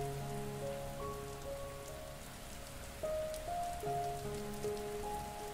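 Rain falls in a steady soft patter, a faint even wash with low sustained tones running beneath it.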